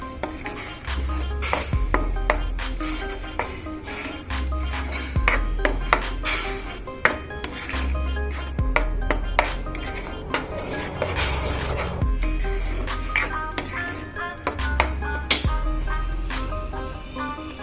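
A spoon scrapes and clinks against a pan while Punjabi-style corn and capsicum curry is mixed, making repeated metallic taps and scrapes in an uneven rhythm, close and without any voices.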